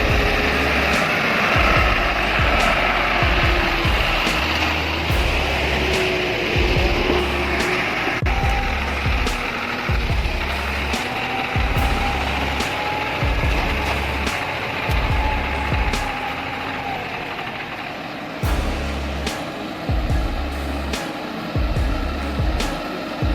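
A monster pickup truck stuck on a slick, muddy incline after rain, its engine revving loudly and steadily with repeated surges as the tires spin and fling mud, close and continuous throughout.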